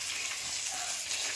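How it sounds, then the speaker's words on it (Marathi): Fish frying in a pan makes a soft, steady sizzle close by. The hiss stays even across the brief moment, with no voices. "इकडं मासे फ्राय होऊ लागले"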